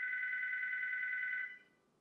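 A telephone rings with a steady electronic tone, loud and continuous for about a second and a half before cutting off, with nothing else heard.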